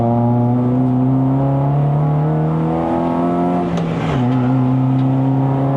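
A Proton Satria Neo with a 1.6L Campro engine and five-speed manual pulls hard on a Genting mountain road, its steady engine note climbing loudly, then dipping briefly at a gear change near the end before rising again.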